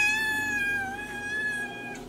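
A family cat lets out a single long, drawn-out meow, loud and close, its pitch wavering slightly before trailing off.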